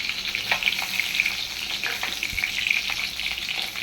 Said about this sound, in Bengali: চিকেন নিয়ে এখানে ঢেলে দিয়ে দেবো দেখুন